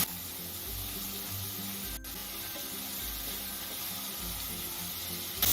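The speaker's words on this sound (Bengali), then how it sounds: "পেঁয়াজ, আদা, রসুনের কাঁচা গন্ধটা চলে যাওয়া অবধি আমি কষিয়ে নিলাম।" Onion, ginger and garlic frying steadily in a pan for dal tadka, a continuous close sizzle with soft spattering and no talk.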